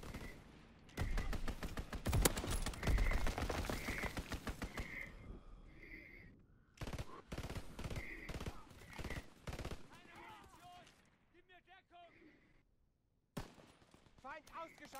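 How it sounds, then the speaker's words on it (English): Rapid machine-gun fire from a strafing run in Call of Duty: WWII rattles in dense bursts for several seconds, then breaks into shorter volleys with pauses, loud and close, alongside game voices. "Strafing run inbound."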